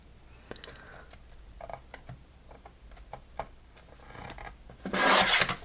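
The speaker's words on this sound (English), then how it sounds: "Let me trim a little sliver off." Close, faint rasping cuts as a thin sliver is trimmed off craft material at a desk, a few light scrapes and taps building to a louder, brighter rasp near the end, with no talk.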